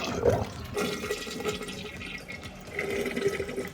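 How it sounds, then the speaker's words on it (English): A household toilet flushes, sending a short, close rush of swirling water through the bowl and tank, with no talking. "my next step is we're just going to flush the toilet"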